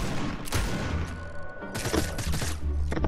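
Gunfire in Fortnite Prop Hunt, a rapid fusillade of shots fired at a disguised prop, loud cracking bursts in quick clusters with a few gaps between volleys.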